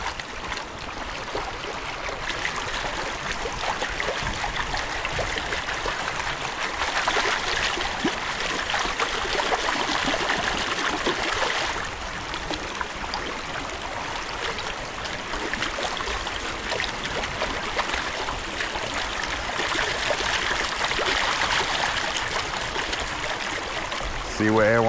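Water sloshing steadily in a gold pan while bedrock crevice material is worked outdoors, a continuous near swishing and trickling wash with brief voices over it.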